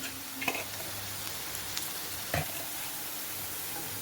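Onions fry with salt for a chicken curry, giving a soft, continuous sizzle broken by a couple of brief utensil clinks against the pan.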